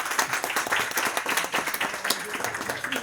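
An audience at a gastronomy team evening in a restaurant applauds the chef, dense continuous clapping from many hands at moderate distance, with some voices mixed in.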